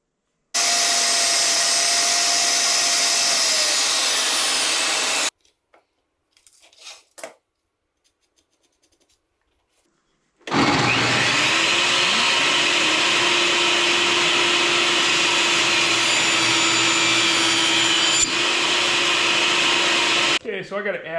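Table saw blade cutting small wood pieces for a box, two loud sustained whining cuts close by, separated by a quiet gap with brief clatter.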